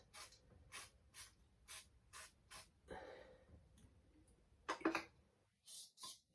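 Aerosol cleaner is squirted inside an engine part from an MG Maestro Turbo in a series of short, close hissing bursts, with a couple of longer sprays and quiet handling between them.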